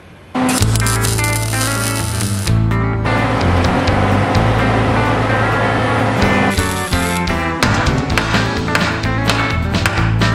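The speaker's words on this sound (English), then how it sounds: "we can hammer that and get it roughed in a little better" Metal part on a vintage Ford Ranch Wagon being hammered in a workshop: loud, sharp repeated metallic strikes in irregular bursts over a steady background hum, close to the listener, no talking.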